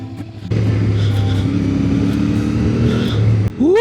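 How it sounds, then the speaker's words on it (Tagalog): A motorcycle engine idles and revs at dawn, a steady close rumble that swells briefly and ends with a rising whine near the finish. "Yung motor natin guys, oh."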